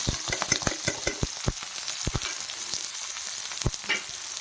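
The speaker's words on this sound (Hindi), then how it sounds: "ओनियन को हमें फ्राई होने तक भूनना है, गोल्डन फ्राई तक" Onions sizzle and fry in a pan, a steady close hiss broken by repeated sharp clicks and taps of a spoon stirring against the metal, with no one speaking.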